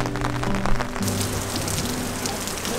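Heavy storm rain in Ljubljana, Slovenia pours down steadily and close by, a dense continuous hiss of drops hitting hard surfaces, with no voices.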